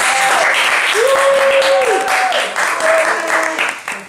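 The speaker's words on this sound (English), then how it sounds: "Please give a big round of applause for the camera crew." Applause for the camera crew on a Survivor-style show, a loud dense patter of clapping mixed with whoops and a sustained cheering voice over about four seconds.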